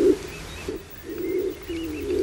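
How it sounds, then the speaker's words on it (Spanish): Laurel pigeon (paloma turqué) in the laurel forest of Garajonay National Park, La Gomera, giving low, soft coos in a few short repeated phrases, fairly close, over faint background chirps. "Esta en imagen es la paloma turqué, que hace el nido en lo alto, en los árboles"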